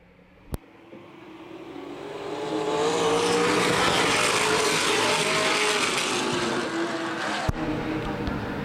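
NAPA late model race cars roar past at Baer Field Speedway on a green-flag restart, engines swelling from a distant drone to a loud, sustained full-throttle blare before easing slightly.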